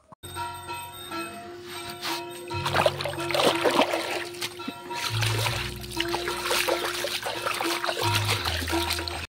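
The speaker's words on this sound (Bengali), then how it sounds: "চলো এখন হচ্ছে হাত পাটা ধুয়ে নেব" Water splashes and trickles as hands and feet are washed in a rural village home, with uneven bursts of pouring and splatter alongside a faint ringing tone.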